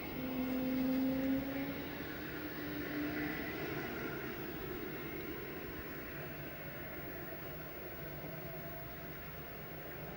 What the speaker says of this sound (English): now the helicopter's getting ready to take off